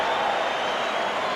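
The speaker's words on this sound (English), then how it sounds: "The fans applauding the effort of Michael Jordan." Basketball arena crowd at a 1987 Bulls–Clippers NBA game applauding, a dense, steady wash of clapping and crowd noise with no pauses.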